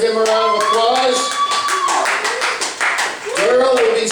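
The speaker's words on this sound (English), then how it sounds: "Give him a round of applause." Clapping from a comedy show audience during a round of applause, quick hand claps running under a loud voice.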